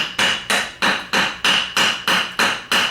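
Light metal taps on a vintage Chrysler starter armature, struck to break in its bushing: eight evenly spaced sharp knocks, close and clear, about three per second with no talking.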